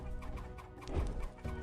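Chickens clucking in the video game Forge Quest, a repeated run of short, soft clucks with a deeper thump partway through, steady in level.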